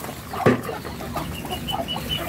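Chickens and muscovy ducks clucking on a small home farm, one louder cluck up close and then softer, repeated clucks and chirps in the background.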